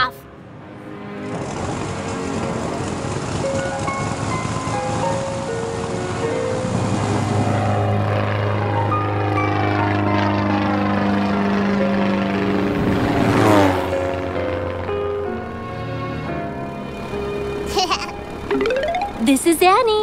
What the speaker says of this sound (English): Now, Winky, you may take off on the runway number 27.